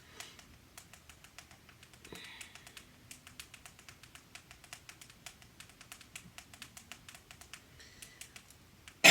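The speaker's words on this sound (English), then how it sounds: "Of course, I can't type when I'm trying to go fast." Fast, uneven bursts of keystrokes on a computer keyboard clatter close by at a quiet level, with brief pauses between runs and a faint bird chirping in the background.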